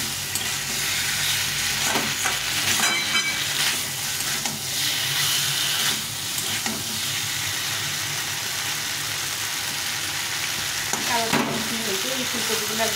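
Cauliflower and potato stir-frying in a pan, a loud continuous sizzle with spatula stirring and scraping throughout, plus a faint low background hum.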